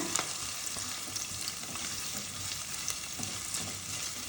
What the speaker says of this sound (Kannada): ಇದನ್ನು ಚೆನ್ನಾಗಿ ಒಂದು ನಿಮಿಷ ಫ್ರೈ ಮಾಡ್ಕೊಳ್ಳೋಣ